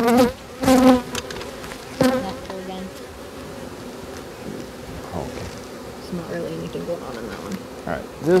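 Honeybees buzz around an open hive during an inspection, steady insect drone throughout with a few louder passes close by and quiet voices talking in the background.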